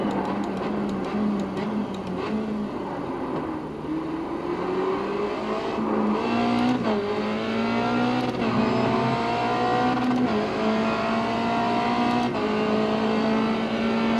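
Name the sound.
race car engine driving in iRacing video game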